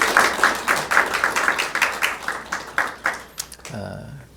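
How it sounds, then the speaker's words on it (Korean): A church congregation at a Sunday service claps to welcome visiting elders, a steady run of fairly even, closely spaced claps that fades near the end as a voice begins. "이선희 집사님 우리 함께 하셨는데 우리 박수로 환영하겠습니다."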